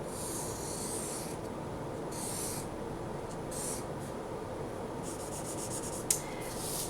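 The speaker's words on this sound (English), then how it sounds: "I'm going to go ahead and use my Sharpie." A Sharpie marker draws a tree on paper, making faint, dry scratchy strokes that come in short bursts with brief pauses in a quiet room.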